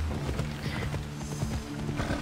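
Horse hooves clop in a quick, regular rhythm in the video game Assassin's Creed Odyssey, mixed with a low game soundtrack drone and other effects.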